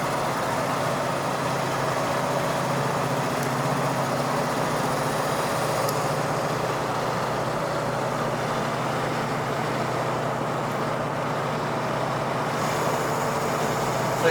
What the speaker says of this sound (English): Nice running 70 El Camino.